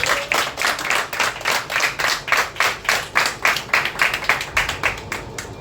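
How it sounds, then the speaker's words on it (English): A group claps for a team at a water and sanitation presentation in Odisha, a steady run of individual close claps with a lively, slightly uneven rhythm, no talking over it. "I think another big round of applause for the team."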